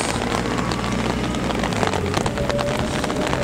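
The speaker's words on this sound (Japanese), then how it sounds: "雨が降っててですね" Steady rain at a fishing harbor, Miyanohara fishing port, hissing densely and continuously with scattered drops pattering close by, loud and unbroken throughout.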